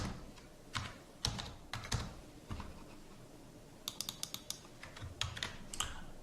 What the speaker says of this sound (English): So let's just set that up with a quick password.